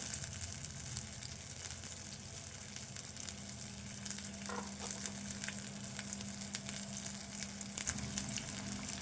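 Masala frying in a pan for a meal maker (soya chunk) curry gives a continuous, fairly soft crackling sizzle with a low steady hum beneath and scattered light pops, no speech.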